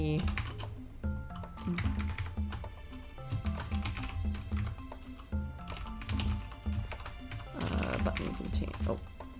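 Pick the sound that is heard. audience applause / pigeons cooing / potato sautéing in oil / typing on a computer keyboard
typing on a computer keyboard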